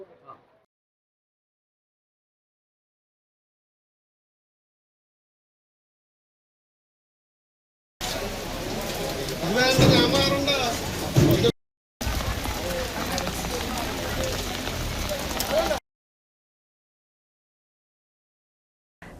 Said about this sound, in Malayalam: തൃശൂരിൽ കനത്ത മഴ തുടരുന്നു.